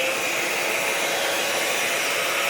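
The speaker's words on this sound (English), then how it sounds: "Craft only blow dryer. I'm going to turn it on and try and move this resin some" A craft-only blow dryer runs steadily to heat resin, a close, constant whooshing roar of air and motor with no pauses and no voices.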